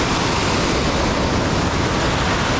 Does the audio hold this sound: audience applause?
no